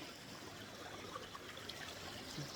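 Clear creek water flows steadily in a mountain stream, a soft continuous trickle and babble heard up close and alone at low level.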